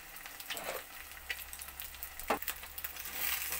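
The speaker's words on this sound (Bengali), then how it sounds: "তেল গরম হয়ে গেছে, তেলের মধ্যে ডিমটা এখানে আমি একটা ডিমই দেব" A single double-yolk egg, seasoned with a little salt, frying in hot oil for a scramble, giving a soft, fairly quiet sizzle with a few crackles and a sharper spatter partway through.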